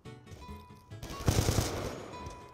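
Automatic gunfire in Black Ops 2, faint shots at first swelling into a loud, close rapid burst midway that rattles on and slowly fades.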